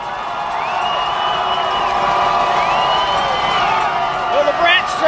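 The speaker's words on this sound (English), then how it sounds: "The crowd has returned, as we said." A high school football crowd at Moffat County versus Basalt, a broad steady roar of cheering and shouting at a distance, with a commentator talking over it.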